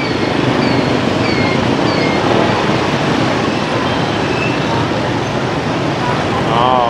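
Rush-hour traffic crawls through a jam on a rainy Saigon street, a dense, loud, continuous roar of engines and wet road noise with faint horn-like tones drifting through, steady from start to finish.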